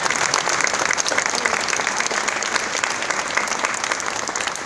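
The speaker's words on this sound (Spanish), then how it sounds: "San Expedito, fuerte el aplauso para nuestro patrono." Sustained crowd applause fills a church celebration honoring the patron saint San Expedito at his sanctuary in Bermejo, Caucete, San Juan; steady, dense clapping continues loudly throughout without a break.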